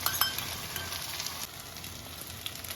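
Onions and potatoes sizzle in hot oil with ginger, cumin and dry chili paste for khichuri, a close, continuous frying crackle broken by brief stirring clicks.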